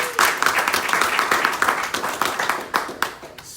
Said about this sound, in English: So again, let's give Duke a round of applause.